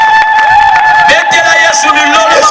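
Church congregation cheering and acclaiming the commune's mayor, a loud crowd roar with shouts and voices over sustained ringing musical tones, continuous throughout.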